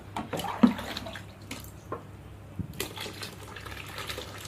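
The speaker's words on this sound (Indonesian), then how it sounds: "sekarang kita masuk air yang ke-9" Water being poured into a thick homemade car and motorcycle wash soap mixture and stirred, with soft splashing, sloshing and a few light knocks, fairly quiet and close, no voices.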